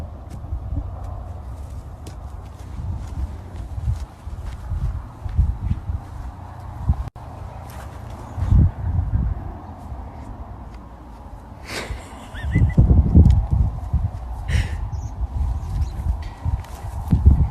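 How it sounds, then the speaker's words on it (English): A horse walks with uneven clip-clop hoofbeats and heavy thuds on the ground, loud and close, with scattered rustles and occasional sharper knocks between steps. "You're such a good horse."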